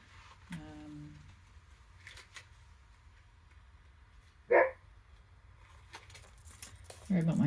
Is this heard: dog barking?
yes